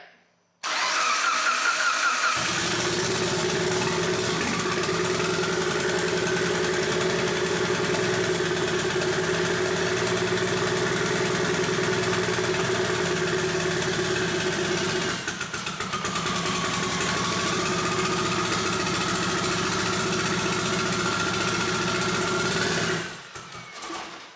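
A Mitsubishi Lancer Evo 8 engine cranks briefly, then catches and runs loudly and steadily, its idle pitch wavering and dipping partway through before it shuts off near the end; no talk.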